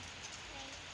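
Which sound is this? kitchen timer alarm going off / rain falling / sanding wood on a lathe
rain falling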